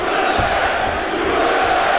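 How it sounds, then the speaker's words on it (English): A Philadelphia, Pennsylvania arena crowd at a UFC event chants "USA" for fighter Matt Hamill, a dense, loud, sustained roar of many voices filling the hall. "Pennsylvania crowd chanting USA for Matt Hamill"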